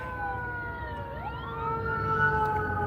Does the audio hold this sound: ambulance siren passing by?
yes